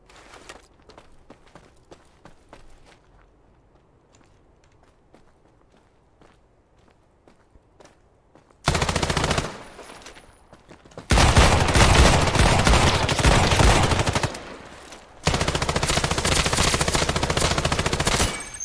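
Video game gunfire from Islands of Nyne: after quiet footsteps, loud sustained bursts of automatic fire erupt in several long volleys separated by brief pauses.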